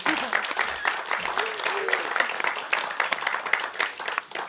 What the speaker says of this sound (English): Everyone, round of applause to Andrew.